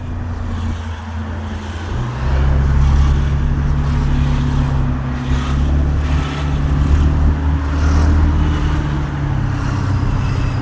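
A heavy road traffic jam on a Saturday shows as a steady, loud, low engine rumble and drone with wind noise over it, continuous for the whole stretch, with no voices.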